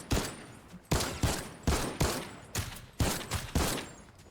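Gunfire in the video game Fortnite comes as a string of about eight sharp, evenly spaced shots, roughly one every half second, each with a short decaying tail, moderately loud with no talk over it.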